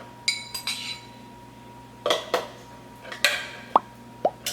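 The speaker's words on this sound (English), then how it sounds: "I'm going to get started on adding all of my items into the food processor here. I'm going to start with my beans." Rinsed and drained canned beans from a 15-ounce can being tipped into a food processor, heard as a series of soft plops and wet thuds with light clinks of a utensil against the bowl, close and fairly crisp.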